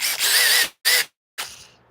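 Skil budget power drill in a woodshop, whirring in three short bursts: two loud close runs separated by a brief pause, then a third spin that winds down, with no talking.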